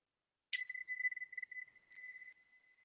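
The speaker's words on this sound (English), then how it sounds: "So I'll just ring my bells and" A single meditation bell strikes once and rings out with a clear, bright, sustained tone that slowly fades into silence.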